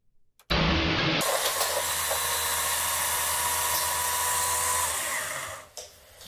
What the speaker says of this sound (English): It's a chainsaw!